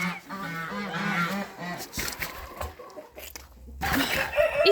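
Farmyard turkeys squawk and gobble in a barn with fresh hay, a rapid run of loud calls near at hand, pausing briefly before another burst.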